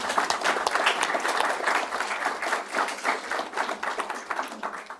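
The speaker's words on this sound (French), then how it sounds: "On se redonne une petite main d'applaudissements." Audience clapping at an honour roll ceremony, a dense, steady round of applause that swells and fades slightly over several seconds, with no talking on top.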